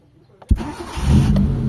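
A Mitsubishi Lancer engine catches with a sharp start, then settles into a steady idle around 800 RPM, close and fairly loud, with a faint click partway through.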